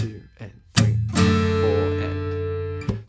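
Acoustic guitar strums the opening chords of a song, with sharp muted strums cutting between ringing chords, alongside a brief voice at the start.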